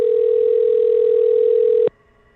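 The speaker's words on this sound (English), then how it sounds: "Drop a 1 in the chat if you're able to hear like the ringing noise" A telephone ringing tone sounds as a single steady, loud electronic tone for about two seconds, then cuts off abruptly to faint line hiss.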